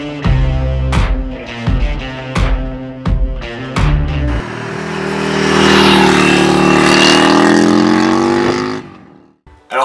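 A Yamaha Virago motorcycle engine blips through several quick revs, then pulls away in a sustained, loud, rising drone as it rides off.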